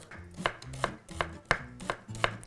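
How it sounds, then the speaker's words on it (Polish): Shallot being chopped with a knife on a board for pumpkin kopytka, six crisp, evenly spaced knife strikes sounding close and clear with no voices. "Kroimy cebulę"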